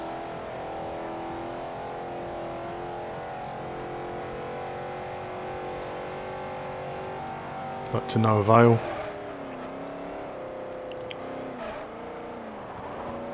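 Car engine in the racing game Forza Horizon, a steady sustained drone throughout with a brief louder revving burst partway through, under continuous talk.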